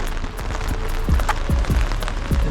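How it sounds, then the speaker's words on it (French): Heavy rain falls hard and continuously, a loud, dense patter close by, with a few heavier drops striking nearby surfaces. "Toujours une pluie de malade."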